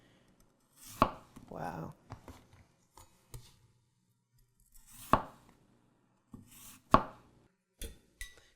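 Sharp, isolated knife chops on a cutting board with a Sabol Brothers custom kitchen knife, four or five crisp strikes spaced irregularly amid near silence, plus a brief spoken exclamation.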